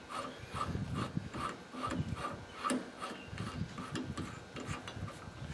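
A socket ratchet turning the wheel bearing nut on a Ford Explorer's rear hub, quiet rhythmic rasping clicks repeating at an even pace, close and faint, no talking.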